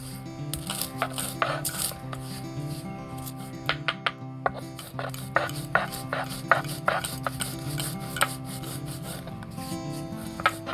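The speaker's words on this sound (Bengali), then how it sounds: "তারপর ভেজে রাখা মশলাগুলোকে ভালো করে গুঁড়ো করে নিতে হবে" Fried spices being ground to powder for a lemon and green chilli pickle, with repeated scraping, rubbing strikes in an uneven rhythm, close and fairly quiet over a steady low background hum.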